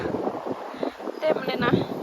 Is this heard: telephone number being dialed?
no